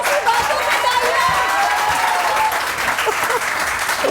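A studio audience at a Samaa TV morning show applauds in a dense, sustained wash of clapping, loud and close, with a murmur of crowd voices mixed in.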